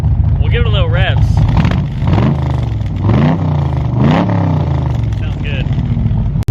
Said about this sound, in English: We'll give it a little revs.